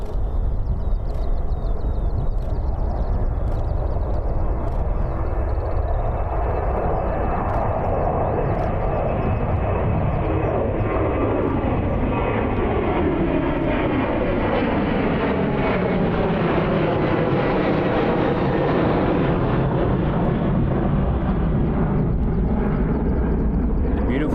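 At Christchurch airport, a Qantas airliner takes off from runway 02 with a continuous loud roar of jet engines, the pitch slowly shifting as the aircraft passes.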